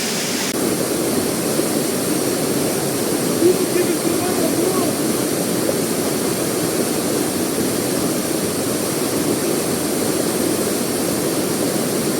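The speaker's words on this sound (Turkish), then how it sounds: "Hep denize giriyordum değişiklik olsun diye bu sefer de şelaleye geldim." Çavuşlar waterfall in Ordu, Turkey, roars as a loud, unbroken wash of white noise that fills the whole scene steadily from start to finish.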